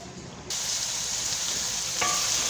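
Beef and onions for a beef karahi stir-fry in a pot over a low-to-medium flame, giving a continuous close sizzle that jumps louder after a moment, with a soft scrape of stirring near the end.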